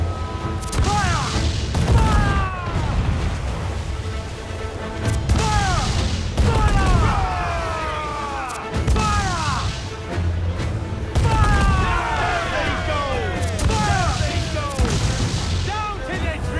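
Repeated cannon broadside booms from pirate ships in Assassin's Creed IV Black Flag, heavy low thuds rolling through a naval battle under constant shouted crew voices and chaotic combat noise.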